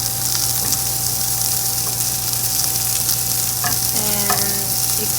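Food crusting up in a frying pan sizzles with a steady bright hiss, constant and close, with a faint low hum behind it and a few brief crackles near the end.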